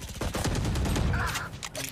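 Rapid, dense bursts of automatic gunfire from the video game Valorant crackle loudly and continuously for a couple of seconds, close and unbroken.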